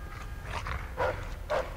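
Dog barks in the Mafia II video game, a few sharp bursts set against a steady low rumble of in-game ambience.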